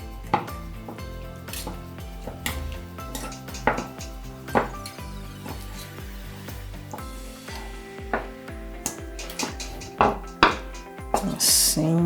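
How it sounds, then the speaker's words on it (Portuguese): A knife chops cooked cow's foot (mocotó) meat off the bone on a board, a sequence of sharp, irregular knocks and scrapes close by, with occasional clatter of utensils. "Então nós vamos picar todo o mocotó, retirar do osso, picar bem picadinho."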